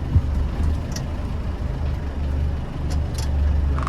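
A 1993 Land Rover Defender 90 with a 200Tdi diesel engine rumbles steadily as it backs up in reverse gear, a low close drone with faint higher whines and no talking.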